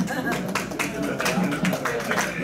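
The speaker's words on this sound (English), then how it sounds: "Applause is accepted." Scattered audience applause after a joke at a Rotary Club meeting, uneven clapping with voices murmuring underneath.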